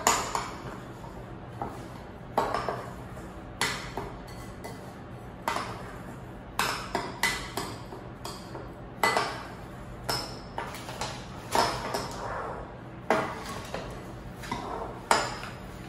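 Crushed cookies and melted butter being mixed in a bowl for a no-bake chocolate ice cream pie, with a utensil scraping and clinking against the bowl in repeated irregular strokes, close and fairly quiet, with no talking.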